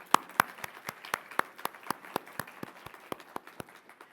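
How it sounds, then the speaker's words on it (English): Scattered, fairly quiet applause at a health equity summit, made of distinct individual claps from a small number of people at an uneven, slowing pace, with no talking over it. "Let's give them a round of applause."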